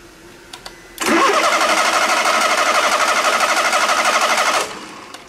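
An engine's starter motor cranks and the engine fires up close by during a starter test, a loud, even pulsing roar running for about three and a half seconds before cutting off.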